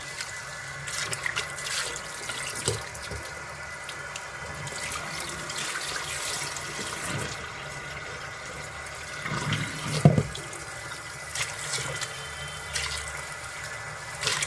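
Tap water runs steadily into a kitchen sink during washing, a continuous near splashing stream with occasional knocks and sloshes, sounding alone without talk throughout.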